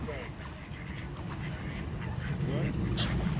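Ducks being fed bread quack repeatedly, close by, among other birds. Nearby people chatter almost continuously over the honking calls.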